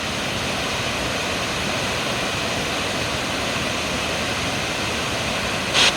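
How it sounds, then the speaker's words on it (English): Falls on the Kitsap River in Washington, a continuous broadband rush of falling water, loud and steady from start to finish with no voices. "Now these are some falls on the Kitsap River in Washington."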